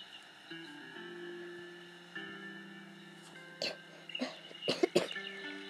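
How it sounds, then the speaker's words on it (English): Several harsh coughs from a person with a bad cough, clustered near the end over a steady tonal game-music background with no talk. "And I do have a bad cough too."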